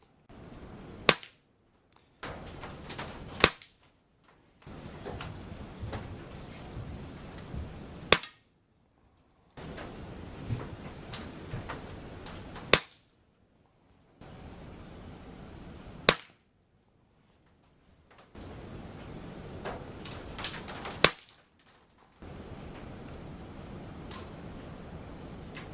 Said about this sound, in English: So as you can see, paintballs really good fun to shoot.